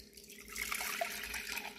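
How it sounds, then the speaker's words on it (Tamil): Coconut milk poured into a container while making buttermilk, a soft liquid trickle and splash that rises after a quiet start and continues steadily, fairly faint. "தேங்காய் பால் ஊற்றிக்கலாம்."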